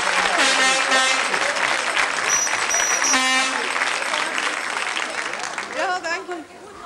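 A studio audience at a Belgian television game show in 1988 applauds in a sustained, dense round of clapping, with voices and tonal sounds over it, before the clapping fades at the end.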